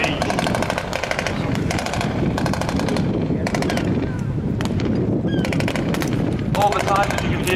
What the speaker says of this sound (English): All the time, as you can hear, the GPMG gunners in the raiding craft are providing fire support